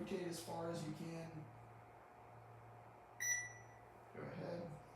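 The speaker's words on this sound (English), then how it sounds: "Kobe, when you hear the beep" A short electronic beep from a shoulder assessment device sounds once midway through a lumbar-locked thoracic rotation test, with a person talking before and after it.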